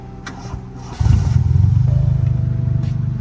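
A Honda Accord 8th generation engine cranks briefly and catches, then settles into a steady, rumbling idle with a rhythmic pulse, recorded close by.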